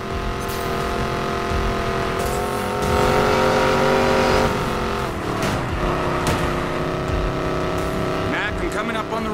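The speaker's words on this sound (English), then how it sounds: "They say you're the best racer in town, Morgan. Prove it. This is a sanctioned race, all right" Fast cars roar through a street racing mission in a video game, engines revving and shifting with tires squealing, while characters talk over the steady racing noise throughout.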